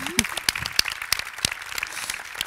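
Audience applause at a Swedish award ceremony honouring Digidel participants, a short burst of scattered clapping, fairly faint and thin, with a voice briefly audible at the start.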